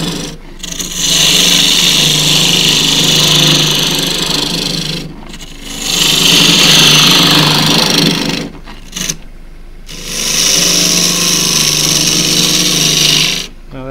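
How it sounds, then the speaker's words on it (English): Birdseye Huon pine spins on a wood lathe as a deep fluted 3/8-inch bowl gouge cuts it, giving three steady, loud whirring passes separated by short silences. "3/8 of an inch bowl gouge, deep fluted bowl gouge."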